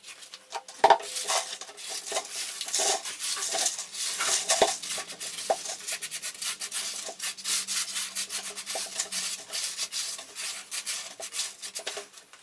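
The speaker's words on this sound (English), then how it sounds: "first I think I gotta clear out a little bit this chip pan" Metal chips are raked and scraped out of a lathe's chip pan, a steady gritty scraping and rattling with a few sharper metallic clanks near the start, close and without speech.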